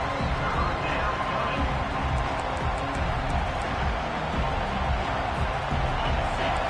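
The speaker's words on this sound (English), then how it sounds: "Here comes this home crowd as the defense tries to get off the field on 3rd down." A home stadium crowd in College Football 25 roars in a dense, continuous wash of cheering and babble during a third-down defensive stand, loud and steady throughout with no clear breaks.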